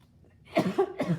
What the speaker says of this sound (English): Just coughing into my sleeve, everybody.